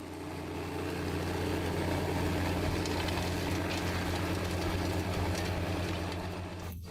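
Case IH Quadtrac tractor with 602 horsepower working a field in Germany, its engine a steady, dense, loud rumble that holds evenly throughout.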